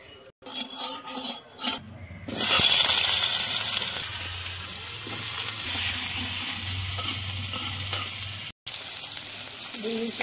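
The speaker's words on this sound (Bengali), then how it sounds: "কড়াইতে তেল দিয়ে এখন আলুটা ভেজে নেব।" Potatoes fry in oil in a wok, a close, bright sizzle with scraping stirring sounds over it, running steadily after a few quiet knocks at the start.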